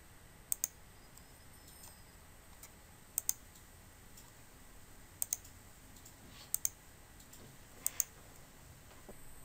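Faint, sharp computer clicks sound in pairs at regular intervals, like a mouse button and keyboard shortcut pressed in IntelliJ on Windows, over a quiet background.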